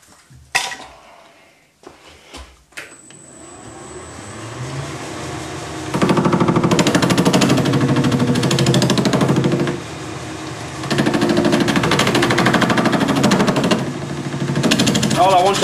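Lathe turning bronze with a sharp right-hand knife tool: a loud, steady, rough grinding whine of the cut that rises and holds, briefly dips, then continues, after a few clunks at the start.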